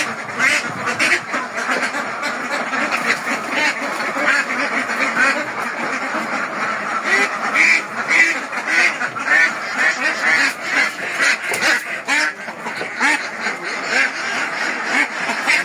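Ducks quack steadily and densely at close range, several birds calling over one another throughout, in a farmyard where ducks and chickens are vaccinated.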